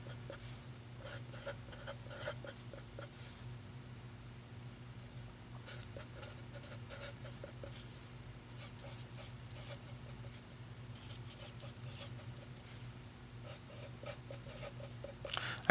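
Pen or pencil scratching steadily across paper while trigonometric functions are written out by hand, in short strokes and bursts with pauses, close and quiet over a faint steady hum.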